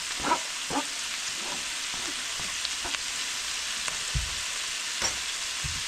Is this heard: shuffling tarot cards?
no